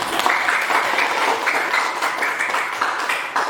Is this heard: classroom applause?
yes